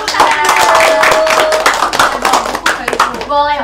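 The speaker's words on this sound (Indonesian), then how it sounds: "Beri tepuk tangan." Students clap together in a classroom during a microteaching session, a brisk run of hand claps mixed with children's and adults' voices talking over it.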